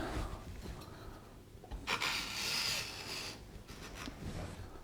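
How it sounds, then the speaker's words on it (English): A tool scraping down the seam of a 3D-printed plaster slip casting mold, a faint, close rasping rub with one brighter, harder stroke in the middle, low and quiet overall. "Let's grab this seam real quick, scrape it down."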